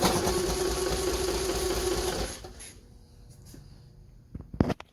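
A BMW Isetta bubble car's engine cranked through its Dynastart, a steady close mechanical whirring for about two seconds that cuts off, followed by quiet and a few sharp clicks near the end.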